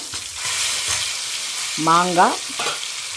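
Raw mango sautéing in a pan for temple-style mango rice gives a steady, close sizzle. A brief squeaky, whistling tone rises through the middle.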